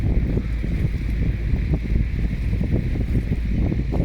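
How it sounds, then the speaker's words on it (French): Steady wind gusting and buffeting the microphone aboard a sailboat on the Intracoastal Waterway, with rushing water and hull noise underneath, loud and continuous with no voices. "Il y a du vent par contre, hein."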